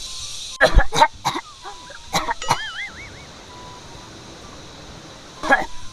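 A handful of sharp coughs in two close clusters, then one more after a pause, with faint bird calls in the background.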